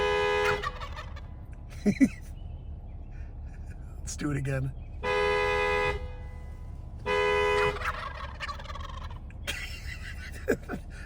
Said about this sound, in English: Big turkeys walking around and gobbling when you honk at them.